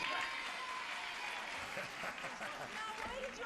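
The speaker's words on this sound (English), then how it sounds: "why did you applaud for her" A television game-show studio audience claps in a broad, steady wash, with a voice talking briefly over the applause.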